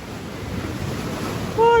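Sea surf at a beach makes a low, steady wash mixed with wind buffeting the microphone, and a short tonal squeal appears at the very end.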